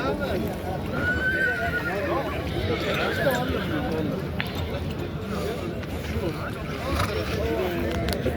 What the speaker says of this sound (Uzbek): Akalar bugun bozorga ot juda serap chiqibdi.